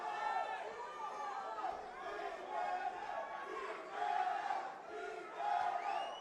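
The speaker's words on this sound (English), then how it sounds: "The crowd to the left of us yelling Jimenez for the fighter in white. Crowd to the right yelling Perez for the fighter in black." A boxing crowd ringside at a live fight, two sections of spectators chanting and yelling rival fighters' names, Jimenez and Perez, in loud, rhythmic, overlapping waves that rise and fall close by.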